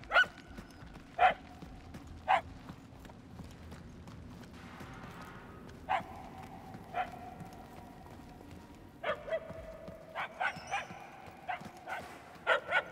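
Puppies in the Guardians of the Galaxy video game yip and whimper repeatedly, short high barks spaced irregularly over a low steady background hum, denser toward the end.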